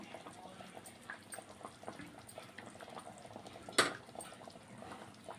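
Gravy bubbles in a pot once the lid comes off, a faint, close simmering gurgle with scattered small pops and one sharper clink partway through.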